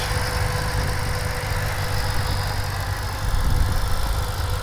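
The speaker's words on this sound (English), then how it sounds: "Very smooth, consistent idle. Sounds incredibly healthy" A 2008 Ford Mustang Shelby GT500 with a cold air intake idles steadily, a smooth, consistent low rumble held close and loud for the whole stretch with no talking.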